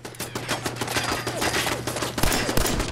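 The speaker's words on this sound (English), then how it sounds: "I hate turrets, I hate turrets. Machine gun turret Mark 1 has been dispatched." Machine gun turret in Fallout 4 firing in a dense, continuous burst of rapid shots, loud and close, with the sharp reports running together into a steady rattle for the whole stretch.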